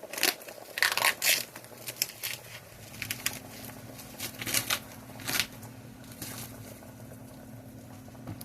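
Fresh sausage crumbled into a pot: wet squishing, crunching and crackling bursts, close and uneven, easing into a steady low sizzle as the meat starts to cook.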